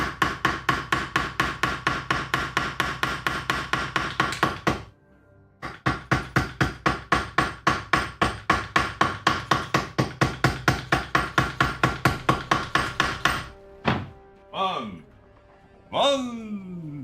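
A hammer drives a rivet home during leather gorget assembly, striking in fast, even, loud blows close by. The run pauses briefly midway, then ends with a few scattered knocks and scrapes.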